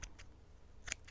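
Scissors trim paper for a craft project in a few quick, close snips, two near the start and a sharper pair at the end, over a quiet background.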